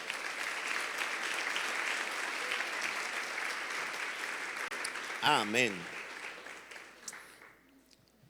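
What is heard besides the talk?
applause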